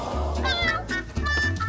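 A kitten meows in quick, high, wavering cries, two or three short calls close to the listener, with some voice-like sounds mixed in.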